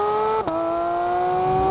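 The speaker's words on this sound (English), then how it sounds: "this PDK shifts so fast. You do notice the shortened gear ratio." Porsche 911 GT3 992.2 with a PDK gearbox howling on a racetrack, a loud sustained engine note that dips with a lightning-quick upshift then climbs steadily again, close and continuous.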